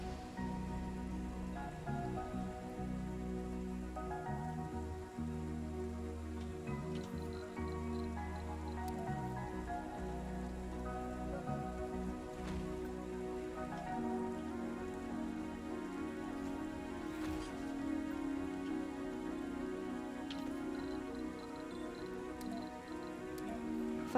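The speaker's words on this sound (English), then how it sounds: "Here comes the rain." Rain falls in the Mars colony game Surviving Mars as a steady, soft patter of drips under a constant musical backdrop, faint and continuous throughout.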